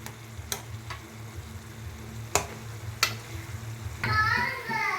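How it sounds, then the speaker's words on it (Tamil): Tomato pickle fries and sizzles in oil in a pan, a steady close sizzle broken by a few sharp clicks of stirring, growing louder and more bubbly toward the end. "இது நல்லா வெந்து எண்ணெய் பிரிஞ்சு வர வரலையும் நல்லா வேகணும்"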